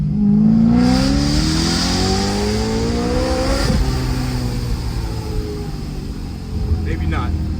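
A supercharged BMW M3 engine revs hard in second gear and climbs in pitch, eases off, then revs again in a lower gear, loud and close with an outdoor rumble.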